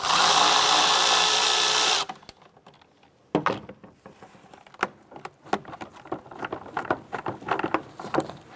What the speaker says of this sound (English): Using the same 8mm socket to go ahead and loosen this hose clamp.